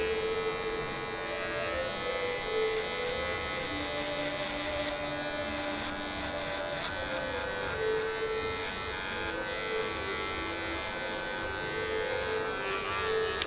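Electric hair clipper buzzing steadily throughout as it cuts a mid fade starting from a zero guard, a close, continuous drone with slight pitch shifts as the blade moves across the head.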